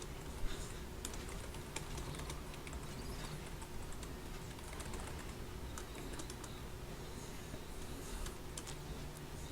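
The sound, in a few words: typing on a computer keyboard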